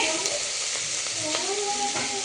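Tempering spices sizzle and crackle steadily in hot oil, a close, continuous hiss with small pops throughout.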